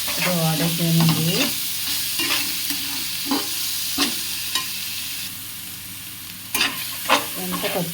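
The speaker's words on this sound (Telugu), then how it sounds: "ఎంత పచ్చి వాసన పోయే వరకు బాగా వేయించుకోవాలి" Ginger-garlic spice paste frying in a pan for fish curry, a steady soft sizzle broken by scraping stirs, a few sharp clinks of a spoon against the pan, and no talking.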